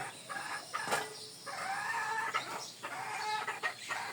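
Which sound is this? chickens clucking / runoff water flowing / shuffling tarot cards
chickens clucking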